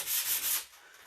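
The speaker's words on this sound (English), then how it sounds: "I do run just my Dixie Belle sanding sponge over the top." A Dixie Belle sanding sponge rubs over a chalk-painted custom vanity, giving a close, airy scuffing hiss in a few steady back-and-forth passes that soften toward the end.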